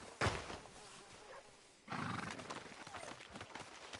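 Horse in Red Dead Redemption II, a sharp snort or whinny near the start, then hoof clatter and movement under game ambience.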